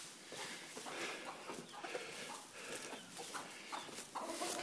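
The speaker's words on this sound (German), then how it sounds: "So, und hier laufen die Hühner noch frei rum." Free-roaming chickens clucking inside a barn, a faint, scattered series of soft clucks against a dim room tone.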